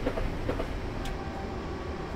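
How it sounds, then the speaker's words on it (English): An EMU electric train in Train Simulator runs along a UK route from Faversham to Rochester, a steady rumbling roll of wheels and motor with faint rhythmic clicks, continuous and fairly loud throughout. "I think this is one of the first times I'm driving this particular model of EMU."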